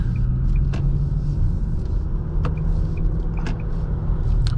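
Steady in-cabin road rumble and engine drone from a 2024 Nissan Sentra SR as its CVT accelerates, a continuous low hum with a few faint clicks, no speech.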